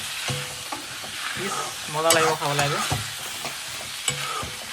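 Pork stomach with onion, turmeric, salt, ginger and garlic sizzles loudly in a wok while a spatula scrapes and stirs steadily, and a voice speaks briefly over the frying.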